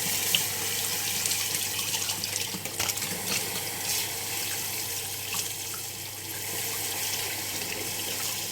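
Tap water runs steadily into a sink while crabs are washed by hand, a continuous close hiss and splash with faint handling noises, no speech.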